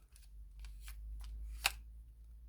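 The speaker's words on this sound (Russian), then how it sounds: "И отпускаем храповик. И он натягивает веревку." The starter ratchet on an ECHO CS-510 chainsaw winds the rope back in with a series of soft, evenly spaced ticks and one sharper click near the end, faint and close over a low steady hum.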